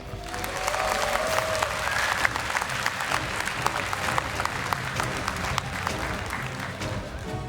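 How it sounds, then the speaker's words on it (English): Steady, dense audience applause fills a hall at a World of Tanks esports semifinal, the Continental Rumble match between Tornado.ROX and NaVi, continuing evenly throughout with no talk over it. "please, a big round of applause again for Tornadoes"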